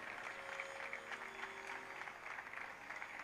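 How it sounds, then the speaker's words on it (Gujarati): A seated crowd at a Swaminarayan temple discourse in Surat claps together, faint and somewhat distant, a dense steady patter of hands that keeps going the whole time. "એક વખત એની તાળીઓથી આપણે વધાવીએ."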